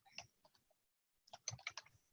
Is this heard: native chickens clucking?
no